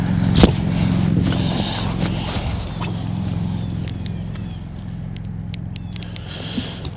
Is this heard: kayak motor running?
yes